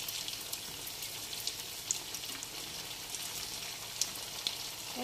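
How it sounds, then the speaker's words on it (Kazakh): Potato rings frying on their second side in hot oil give a continuous close sizzle, with scattered small crackles and pops over several seconds and no voices. "Енді екінші жағы қызарғанша қуырып аламыз"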